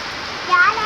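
Heavy rain pouring down outside a house during a power cut at night, a dense, continuous watery roar heard in a brief burst.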